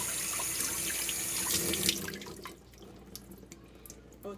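Tap water runs over a cleaned fish in a sink with a steady splashing gush for about two seconds, then it stops and only faint drips and small handling sounds are left.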